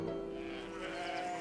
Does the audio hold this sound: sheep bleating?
yes